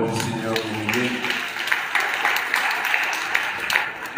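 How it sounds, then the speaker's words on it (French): A church congregation breaks into applause after a voice trails off, scattered clapping swelling into a steady wash of many hands that continues to the end. "Acclamons pour la parole du Seigneur béni."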